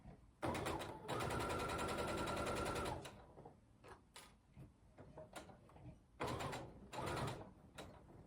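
Sewing machine stitching fabric for a Civil War–era garment, running loudly in a steady whir for a few seconds, pausing among soft handling clicks, then starting again in a second burst.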